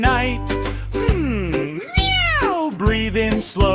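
A chubby orange cat in a quiet old temple, from a cartoon nursery rhyme, meows repeatedly and up close: a string of loud, drawn-out, rising and falling meows with short gaps between them.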